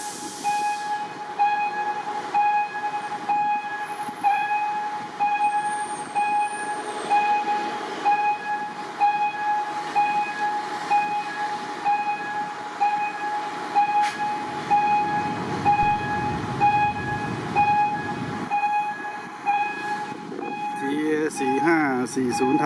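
A Thai passenger train, number 207 from Bangkok to Nakhon Sawan, is hauled by a GEA locomotive. It rumbles past with wheel clatter and a long, steady horn tone, and faint voices are heard nearby.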